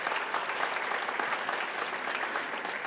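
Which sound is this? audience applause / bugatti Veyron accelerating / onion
audience applause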